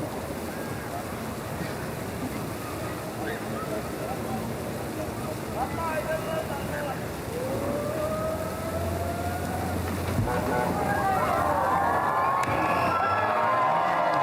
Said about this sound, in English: There you go, the crowd going nuts